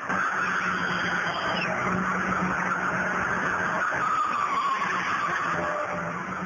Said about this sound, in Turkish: Araçlarıyla kendi etraflarında dönmeye başladı.